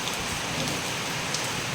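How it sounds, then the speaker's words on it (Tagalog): Heavy rain pours down in a dense, continuous roar, close and loud with no letup. "Napakalakas ng ulan."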